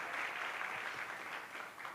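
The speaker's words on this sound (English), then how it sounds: "Please put your hands together for all our friends that are with us" An audience claps for friends attending a CorpsAfrica Kenya pitch day, a continuous wash of clapping heard at a distance, fairly quiet and even, with no voices standing out.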